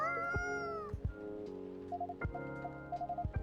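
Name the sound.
cat meowing from video game Coffee Talk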